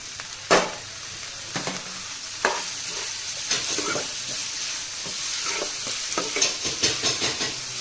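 Boiled carrot, potato and peas stir-fried in a pan with turmeric for coriander rice, giving a steady sizzle broken by scraping stirs and clinks of the spatula, close and alone.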